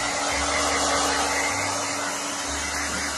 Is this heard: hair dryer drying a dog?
yes